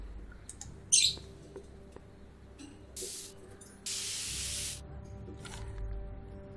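Spray can hissing in the Back to the Future adventure game: a short spurt, then a longer steady spray of about a second over quiet background ambience.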